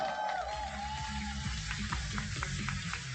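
Audience clapping for a guest at an education event, a dense, steady crackle of many hands that holds at an even level throughout, with a faint voice briefly at the start.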